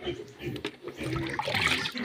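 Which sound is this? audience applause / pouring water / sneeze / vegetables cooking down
pouring water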